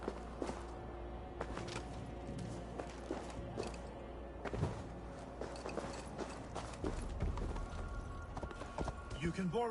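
Horse hooves galloping in the Assassin's Creed Valhalla video game, a steady clip-clop beat running under game dialogue throughout.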